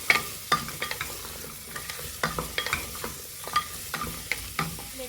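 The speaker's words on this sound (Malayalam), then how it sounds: "ചുരക്ക ചേർത്തിട്ട് നന്നായി വഴറ്റി കൊടുക്കുക" Chopped bottle gourd sautéing with onions crackles softly in a pan, with repeated spatula scrapes and taps in an irregular rhythm, close and fairly quiet.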